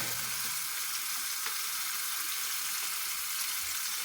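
A burger patty sizzles steadily in a pan, a bright, even hiss of frying fat that carries on throughout without pause.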